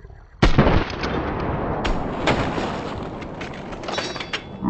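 A loud, close gunshot cracks out in a shooter video game, followed by a long rumbling reverberation, a few lighter distant shots and scattered impacts.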